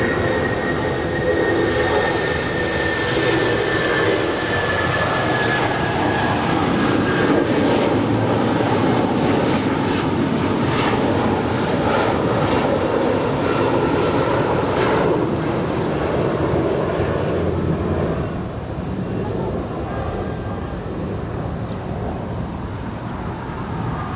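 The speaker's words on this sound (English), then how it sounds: "we'll see if this Japan Airlines Dreamliner makes a left-hand turn" Japan Airlines Dreamliner jet engines roaring steadily at LAX, a broad sustained rumble with a thin whine, moderately distant and fading slightly toward the end.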